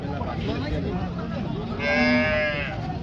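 A farmer's cow moos loudly and long at a busy cow market in Modnimb, over a steady murmur of crowd noise and voices.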